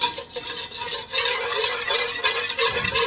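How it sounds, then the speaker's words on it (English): A whisk stirs a flour roux for béchamel sauce in a pan over low heat, a steady scraping swish layered over a soft continuous sizzle, close up and with no voices. "So you let this cook a bit and whisk it up."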